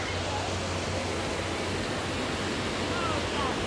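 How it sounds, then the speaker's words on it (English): Steady rushing water of a theme park waterfall falling from high up, a broad continuous splash with no pauses throughout. "You see the waterfall starts pretty high up"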